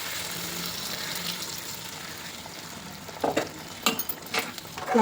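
Masala sizzles softly in hot oil in a pan for paneer curry, a low steady crackle, with a few louder bursts of stirring and spoon clatter toward the end.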